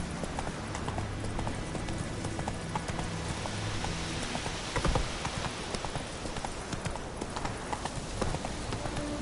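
Hoofbeats of Roach, a horse in The Witcher 3, galloping steadily in a fast rhythmic clip-clop over continuous game ambience, loud and close throughout with no talking.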